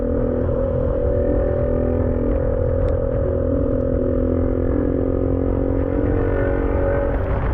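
Motorcycle ridden on a road in Malaysia, a steady and loud engine drone that stays constant with heavy wind rumble and no talking.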